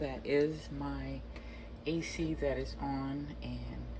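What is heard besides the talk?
None of the usual background noises is heard.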